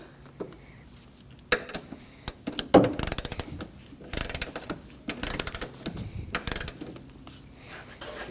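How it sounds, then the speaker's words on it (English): A torque wrench clicks and ratchets in short, quiet bursts while tightening front strut bolts on a 2015-2024 Ford Edge, the uneven clusters of clicks separated by brief pauses. "And we can torque these to 26 foot-pounds."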